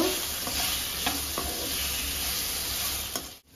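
Fish is stirred with turmeric and salt in a hot oiled pan, giving a loud continuous sizzle with scraping stirring strokes throughout, no talking.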